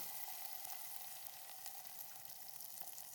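Finely chopped medium tomato sizzles steadily in hot oil with dried red chillies and curry leaves, a constant close, bright frying hiss with no pauses.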